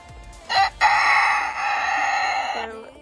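A cockerel crows in one long, loud call close by, held for about two seconds after a short opening note, with a brief bit of background noise before and after.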